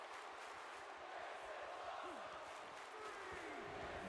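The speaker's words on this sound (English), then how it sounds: "The crowd seems to really love that move." Crowd noise from a video game wrestling match after a Tornado DDT through the turnbuckles, a steady, dense roar of cheering that holds evenly throughout, with faint commentary-like voices in the mix.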